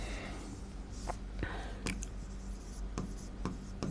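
Writing on a board during a history lesson, with soft scratchy strokes and a few sharp taps over a steady background hiss, close and faint.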